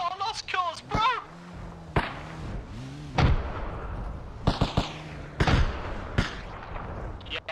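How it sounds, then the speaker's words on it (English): Gunshots in the Arma Reforger video game during a zombie outbreak mission, sharp cracks and thuds at irregular intervals, some close and loud, others more distant, with voices heard between them. "I hear those shots on the right"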